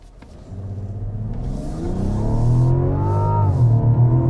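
A 2024 Mazda CX-90 SUV with its own unique transmission design and standard all-wheel drive accelerates hard, the engine note rising steadily in pitch and loudness as revs climb, heard alone and close.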